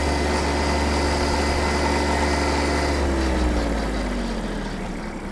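A Kubota GB-13 Japanese mini tractor engine runs at full throttle with a loud, steady mechanical drone, its pitch dipping slightly near the end as the sound eases off.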